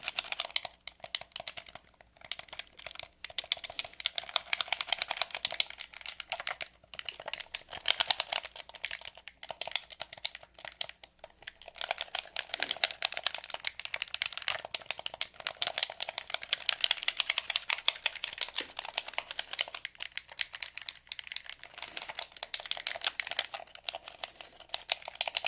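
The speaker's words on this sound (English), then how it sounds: "If this controller sounds a little bit too harsh, in the future we can bring out like a PlayStation controller that does not make as many clicks and clanks" Plastic video game controller buttons click and clack in quick, irregular bursts, close and fairly quiet, with no one talking.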